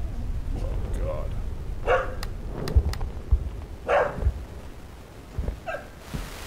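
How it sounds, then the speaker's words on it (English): A dog barks in a few short, sharp bursts in the horror video game Something In The Well, fairly close and mixed with a person talking over and around the barks. "Hey, what are you barking at?"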